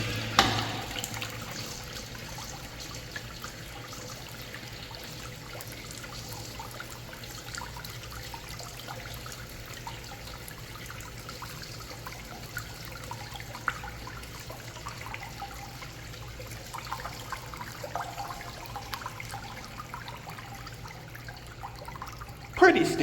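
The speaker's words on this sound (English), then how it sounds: "Let's have a look at a flush." A Zurn Z5750/Z5760 urinal flushes with a steady rush of running water that continues at an even level for over twenty seconds, ending with a brief louder swell.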